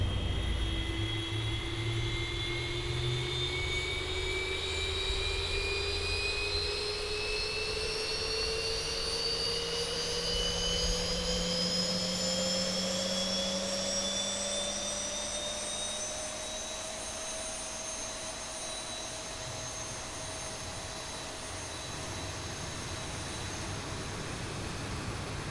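A Boeing 737 jet engine spools up during start in the X-Plane 11 flight simulator, a steady rising whine with climbing tones over a broad roar, continuous and fairly close.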